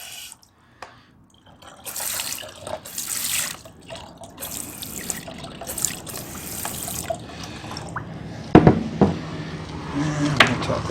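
Tap water runs and splashes into a container being rinsed out at a sink before mixing Air8 and Humic12 lawn concentrate, a steady trickling stream with clinks and louder splashes near the end.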